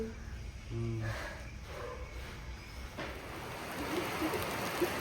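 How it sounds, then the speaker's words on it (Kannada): Heavy rain pours steadily in a broad, hissing wash that grows denser toward the end, with a few scattered louder drops standing out. "ಇಷ್ಟು ಮಳೆ ಬರ್ತಿದ್ರೆ ಮಳೆ ನೆನಬೇಕು ಅಂತ ಸುಮಾರು ದಿನದಿಂದ ಅನ್ಕೋತಾ ಇದ್ದೆ. ಜೋರು ಮಳೆ."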